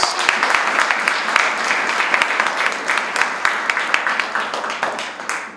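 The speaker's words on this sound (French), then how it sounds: "applauding for the glory of Jesus Christ" A church congregation applauds, steady dense clapping with a few louder individual claps standing out, sustained and fairly close, with voices murmuring underneath.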